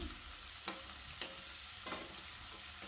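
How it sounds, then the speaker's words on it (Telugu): Onions frying in a pan for Telangana-style mutton curry, a steady broadband sizzle with a few sharp scraping strokes from stirring every half second or so, close and continuous with no voices. "ఇలా మధ్య మధ్యలో కలుపుతూ ఫ్రై చేసుకోవాలి లేదంటే ఆనియన్స్ మాడిపోతాయి"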